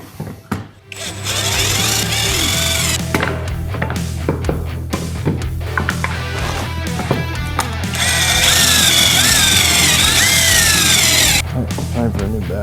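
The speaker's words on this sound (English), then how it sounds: "So I'm gonna drill those now and we'll see where we end up." A cordless power drill bores holes in wooden boards for a table build, whirring in repeated bursts of varying length, with a long loud run near the end and a person speaking between.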